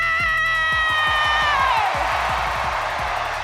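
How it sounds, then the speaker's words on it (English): A big live audience roars and cheers at a Fortnite FNCS Pro-Am esports event, a loud sustained swell of voices under a bright synth tone and a punchy rhythmic beat. "Oh my gosh, you already heard this crowd roar."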